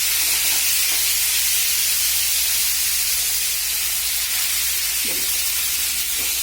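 Mourola fish and potato pieces fry in hot oil in a pan, giving a steady, loud broadband sizzle and hiss that runs unbroken throughout, with no voices.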